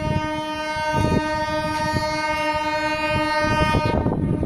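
A coal train rolls past on the Kendrapara line, its horn blaring in one long steady blast over the rumble and clatter of the wagons, loud and close.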